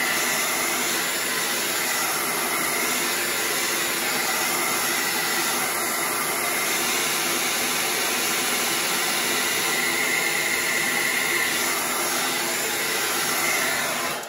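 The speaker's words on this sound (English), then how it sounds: "and then I'm going to dry this with my hairdryer." A hair dryer blows steadily and loudly throughout, a constant rushing whoosh with no pauses.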